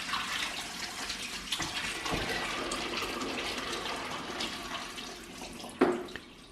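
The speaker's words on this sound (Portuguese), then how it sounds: "Eu vou tirar a água e agora colocar outra água nova e colocar os temperos." Water poured out of buckets used for curing olives, then fresh water run in to refill them, heard as a continuous splashing rush with a sharper slosh near the end, fairly close and without talk.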